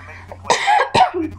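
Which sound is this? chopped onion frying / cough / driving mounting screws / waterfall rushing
cough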